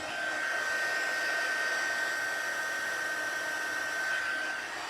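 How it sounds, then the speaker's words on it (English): Heat gun used for heat embossing in a papercraft setting, a steady loud whooshing blower roar with a constant whine running unbroken and close for the whole stretch, no talking. "when I'm heat embossing, I have to hold this in my left hand"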